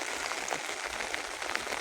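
Soft rain falls in a forest near a red-whiskered bulbul's nest in a khair tree, a faint, even patter with a few scattered drop taps.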